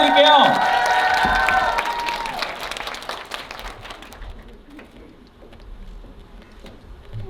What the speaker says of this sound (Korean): 여러분 큰 박수 부탁드릴게요